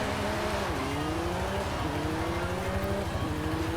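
A 2023 McLaren Artura in Forza Horizon 5 drives off-road, its engine droning loudly and continuously with rising revs and repeated gear-change dips in pitch.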